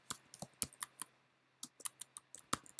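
Text is typed on a computer keyboard in short, quiet bursts of clicky keystrokes, with a brief pause in the middle, close and soft in a quiet room.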